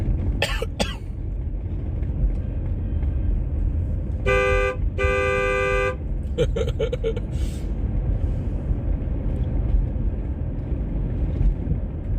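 A car horn gives two sustained honks, then a series of short rapid beeps, over steady engine and road rumble.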